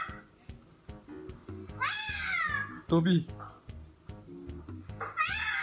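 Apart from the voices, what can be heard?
cat meowing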